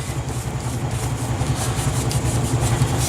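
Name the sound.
rubbing paper strips on card to remove adhesive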